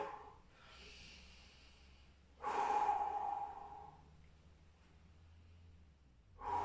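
Heavy breaths during a bodyweight full-body circuit training workout, with a soft exhale, then a louder, longer forceful breath out, and another breath starting at the end, close and alone with no talk.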